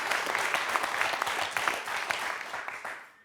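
Studio audience applause on the French quiz show Questions pour un Super Champion: a dense, steady wash of many hands clapping for about three seconds, tapering off at the end, with no talking.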